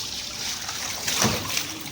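A short splash of water poured from a bucket in one brief gush, with a faint trickle around it.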